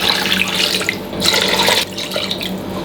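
Tap water pours steadily into a pot of chicken with ingredients for Cebuano timke, a continuous close splashing rush that briefly dips and swells again.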